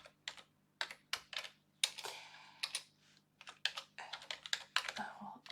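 Typing on a computer keyboard: irregular bursts of close, crisp key clicks with short pauses between groups, fairly quiet, over a faint steady hum.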